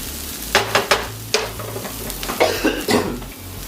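Tomatoes dropped into a pan of browned onion sizzle and hiss loudly at close range, broken by sharp clatters and scrapes of stirring in uneven bursts.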